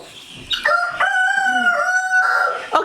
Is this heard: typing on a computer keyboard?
no